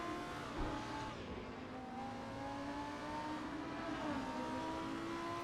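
A race car engine drives hard around the Nürburgring in the Assetto Corsa video game, a loud steady high-revving whine with rising and falling pitch as gears shift, close and continuous without talk.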